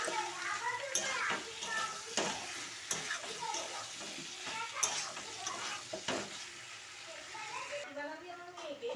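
Stirring a vegetable curry of pointed gourd and soya chunks after yogurt is added gives soft scraping and sizzling, with someone speaking over the stirring throughout.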